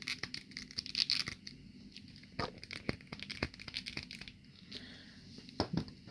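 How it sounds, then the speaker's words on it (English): A NECA Godzilla action figure's ratchet joints click and clack as the limbs are moved, giving sharp irregular snaps and crinkly scrapes close to the mic amid faint handling noise. "That's the clicking and clacking."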